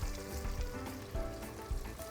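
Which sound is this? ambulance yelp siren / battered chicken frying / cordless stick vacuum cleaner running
battered chicken frying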